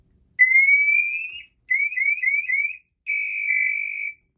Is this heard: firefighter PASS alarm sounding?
yes